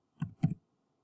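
Two quick clusters of key clicks from a computer keyboard, typed into a legal research database, close and fairly soft, followed by silence.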